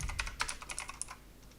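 Quick keystrokes on a computer keyboard, a short burst of close, crisp clicks that tapers off.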